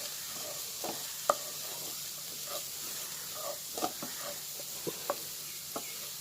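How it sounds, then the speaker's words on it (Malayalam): Grated coconut being sautéed in a pan, a faint low stir-fry crackle with scattered soft clicks and scrapes of a spoon against the metal. "നമുക്ക് നേരത്തെ എടുത്ത് വെച്ച തേങ്ങ ഇതിലേക്ക് ചേർത്ത് കൊടുത്ത് നല്ലവണ്ണം വഴറ്റാം"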